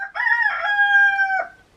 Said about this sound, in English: that's the baby rooster. He just now getting his throat.